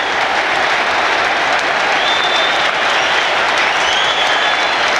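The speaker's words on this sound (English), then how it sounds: "Branca takes the applause" A football crowd at a 1997/98 Middlesbrough match applauds after a goal by Marco Branca, a loud, unbroken wash of clapping and crowd noise filling the whole stretch.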